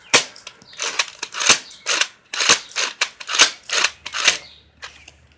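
A Nerf Zombie Strike dart blaster slam-firing, a rapid series of about a dozen sharp plastic snaps and clacks in an uneven rhythm, close and loud with no talking.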